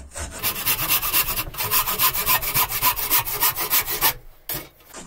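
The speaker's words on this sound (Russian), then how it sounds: "Зажал в тисочках и сейчас быстренько отпилим." A wooden shovel handle clamped in a vise is sawn through, with fast, even back-and-forth rasping strokes, close and loud, that pause briefly midway and die away near the end.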